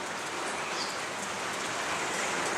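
Steady rain falling outdoors near mountains, a soft even hiss of drops pattering on surfaces, continuous and fairly quiet with no voices.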